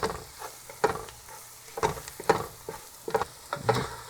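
Spices with turmeric and black pepper sautéing in a pan, with a soft sizzle under a series of distinct spoon scrapes and taps in an irregular rhythm, close by and no voices.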